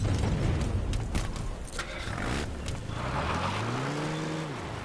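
A car engine in Metal Gear Solid V: The Phantom Pain hums and revs under steady background noise, its pitch rising and falling in smooth sweeps toward the end.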